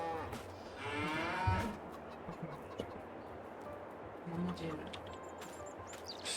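Cows low on a Polish farm amid a busy livestock barn, a long moo standing out early over constant background noise, with faint bird chirps and occasional voices.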